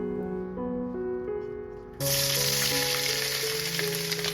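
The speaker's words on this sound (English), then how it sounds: "Start by heating up your pan and add in your sausage pieces." Sausage pieces sizzling in a hot pan, a steady close frying hiss that jumps louder partway through, with music playing over it.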